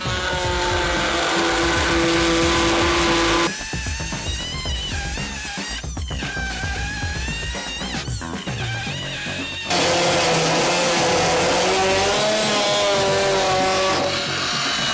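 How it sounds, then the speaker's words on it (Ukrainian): A Dnipro-M MF-42SEQ oscillating multi-tool with a bimetal blade cuts metal at low speed, giving a loud, continuous buzzing whine whose pitch rises and falls as the blade bites and releases, close up with no talk. "Під час різу можна було почути, як реноватор додає обертів і як вони спадають"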